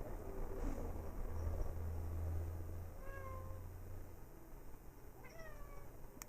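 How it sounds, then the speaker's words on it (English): A pet cat named Midnight meows indoors, a few short, fairly faint cries spaced a couple of seconds apart over a quiet room hum, with no speech. "if you hear my cat meowing"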